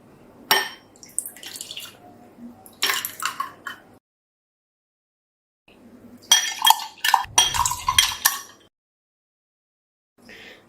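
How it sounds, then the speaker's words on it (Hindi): Mint lemonade poured into a glass, with bursts of clinking glass and liquid splashing in several separate spells split by pauses, close and fairly loud. "इसे मैं आपको गिलास में निकाल के दिखाती हूँ।"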